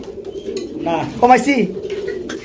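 A female pigeon in laying condition coos briefly and close by, a short throaty burst set against light background noise and a nearby voice.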